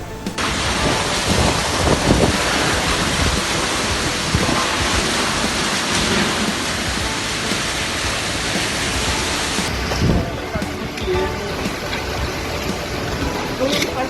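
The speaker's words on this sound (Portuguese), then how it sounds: "Olha a chuva aqui em Montes Claros, Minas Gerais." Heavy hailstorm with pounding rain and thunder over a neighborhood in Montes Claros, Minas Gerais, a loud dense roar with hail clattering throughout, with a voice speaking over it.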